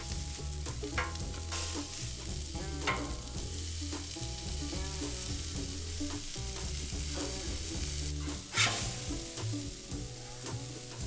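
Tuna steaks sizzling on a very hot Blackstone griddle, a close, steady crackle and hiss with clinks and scrapes from a spatula on the metal surface, and no one speaking.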